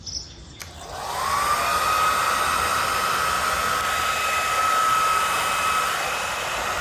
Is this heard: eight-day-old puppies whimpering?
no